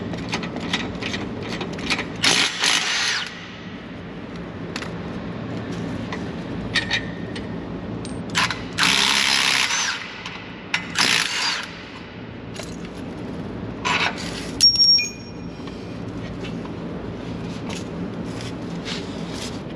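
A hand wrench works bolts loose from a bracket on a Jeep Gladiator Rubicon near the drag link, with scattered ratcheting clicks and metallic clanks in short irregular bursts over a quiet background.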